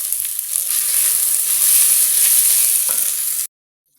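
A pan of beef biryani rice sizzles loudly and steadily, a close hissing fry with faint stirring scrapes, cutting off abruptly near the end.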